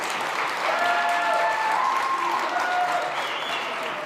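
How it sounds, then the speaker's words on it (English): A room of summit attendees at SXSW 2025 claps steadily for the whole stretch, full and close, with faint whistles or cheers riding over the applause. "Bigger round of applause."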